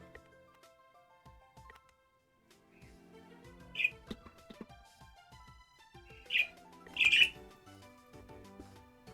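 A pet bird chirps and gives a few sharp, loud squawks near the microphone, over quiet background clicks and light tapping.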